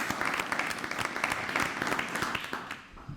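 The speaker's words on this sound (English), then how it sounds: "Let's give them a round of applause, please." Audience applause after a speaker's call at an Oklahoma Aeronautics Commission meeting, a dense, steady wash of clapping lasting a few seconds before tapering off at the end, with no voices over it.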